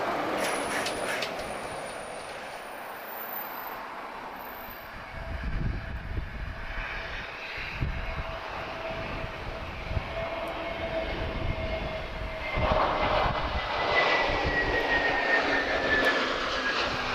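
Airbus A330 jets taxiing on the ground at Lisbon Airport give a steady, fairly distant jet-engine rumble and whine that swells louder in the second half, with no talking.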